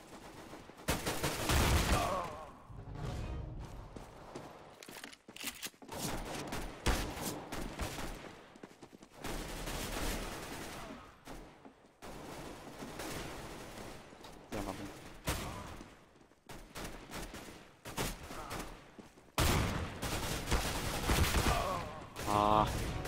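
Repeated shotgun blasts in Counter-Strike: Global Offensive during an Arms Race match, loud bursts of gunfire coming in clusters and runs with brief gaps between them, with a few game effects in the background.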